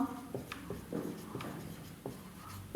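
Hand writing math equations during a class 10 lesson, a brief run of close scratchy pen or pencil strokes with short taps, faint and quiet with no speech.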